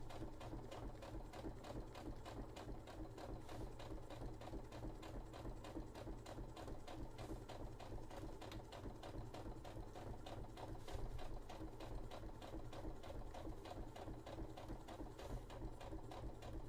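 A sewing machine runs steadily while a Sisters of Battle cosplay costume is sewn, giving a fast, even mechanical chatter that continues without pause, fairly quiet and with no talking over it.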